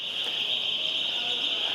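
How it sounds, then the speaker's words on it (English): An alarm sounds inside a large Ikea furniture store in Auckland: a steady, loud, continuous electronic tone that holds without a break for the whole stretch, over faint background store noise. "An alarm's going off."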